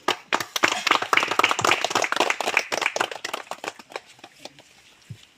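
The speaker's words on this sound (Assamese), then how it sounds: "সকলোকে হাত চাপৰি দিয়ক" A small crowd gathered at the inauguration of Hadangguri waterfall claps for a few seconds, with fairly close, uneven hand claps that thin out toward the end.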